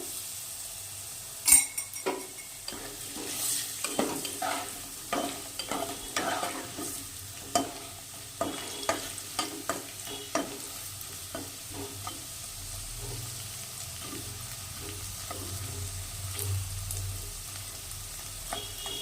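Potatoes fry in a pan with turmeric and salt, a steady close sizzle broken by repeated scraping stirs and occasional clinks of the utensil against the pan, with no voices.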